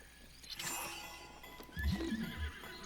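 Horses neighing and whinnying in Breath of the Wild, a couple of loud close calls with hoof clip-clop, set against a field of blue bokoblins on horseback.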